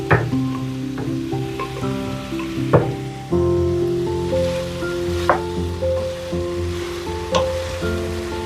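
Sauce for Mexican picadillo sizzles and crackles loudly as it hits a hot pan, with sharp pops and a steady frying hiss, alongside clanking utensil or pot sounds.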